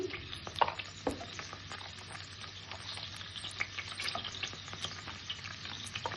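Chopped garlic and a little chopped onion fry in a pan, giving a steady soft sizzle with frequent light crackles and a few stirring clicks, close and moderately quiet, no talking.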